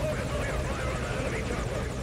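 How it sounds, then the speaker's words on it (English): Helicopter in the video game Metal Gear Solid, a steady, loud rotor drone running through the whole moment with a person talking over it. "Can I, like, get in the helicopter?"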